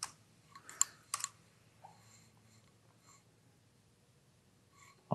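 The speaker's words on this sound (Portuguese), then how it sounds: "Eu prefiro digitar tudo e depois formatar" A few scattered keystrokes and clicks on a computer keyboard, quiet and sparse, with a short burst early on and a louder click at the end against a soft room hum.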